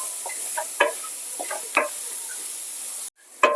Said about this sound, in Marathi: कांदा चांगला आपला फ्राय झालेला आहे